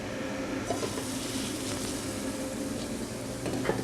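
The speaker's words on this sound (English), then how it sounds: "Okay, you should hear a nice sizzle." Pork loin sears in a little cooking oil in a sauté pan, giving a steady, close sizzle with faint crackles and no talking.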